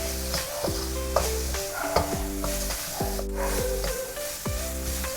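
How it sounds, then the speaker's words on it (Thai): Minced pork being stir-fried over high heat with sea salt and ground pepper, a spatula scraping the pan in steady repeated strokes over a constant close, loud sizzle. "จากนั้นเราจะผัดกันให้เข้ากันอีกครั้งด้วยไฟแรงนะครับ"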